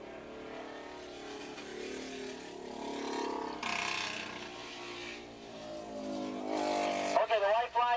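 A racing twin-cylinder motorcycle at Willow Springs International in 1986 drones down the straightaway, its engine note rising and swelling from afar, passing loud and receding, with a crowd-like murmur and engine pitch shifting throughout.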